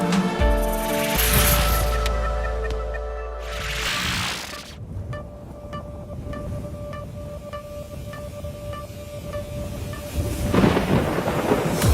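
Thunder during a thunderstorm, with a deep rumbling crack building in the first seconds and a later renewed burst, set under a music bed with soft ringing tones between the rolls.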